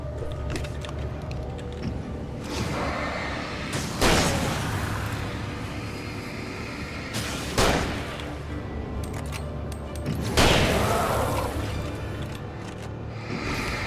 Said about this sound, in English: Yeah, let's change to the shotgun.